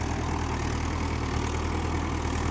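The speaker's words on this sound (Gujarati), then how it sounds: "અને ટ્રેક્ટર જેવો કેવો હાલે" A new Mahindra tractor engine runs at a steady 1300–1400 RPM in a farm field, giving a continuous, even drone that stays close and unbroken throughout, with no talking.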